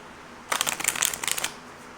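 A close, crisp burst of tarot cards being shuffled by hand riffles for about a second, a rapid fluttering patter heard alone against quiet room tone.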